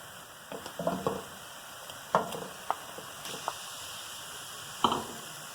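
Chicken drops into a pan of frying garlic, with a quiet steady sizzle and a few scattered sharp taps and stirring clicks, close by and with no voices.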